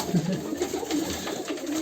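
Soft, low coos from Serbian high-flying pigeons repeat in a gentle rhythm, close by, against a faint background hiss with no talking.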